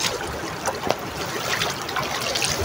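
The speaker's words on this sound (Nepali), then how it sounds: "यो हाम्रो खोला" River water trickles and splashes continuously at close range, a dense, fairly loud wash with no pauses.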